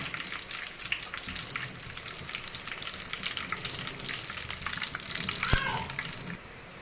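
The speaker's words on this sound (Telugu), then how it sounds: "చూడండి మనకి పల్లీలు ఇలా చెక్కల్లాగా అయ్యాయో అట్లా వేగాలి." Peanuts fry in oil for upma, a continuous, even crackling sizzle heard close up, with one sharp click near the end before the sound drops slightly.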